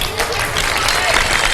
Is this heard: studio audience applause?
yes